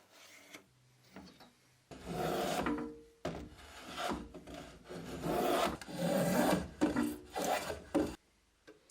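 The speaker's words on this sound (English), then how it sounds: "Then pre-sand the surface and the joints." Hand sanding on a wooden ladder-chair surface and joints gives close, rhythmic rasping strokes in bursts, some short and some sustained, with brief quiet pauses between passes.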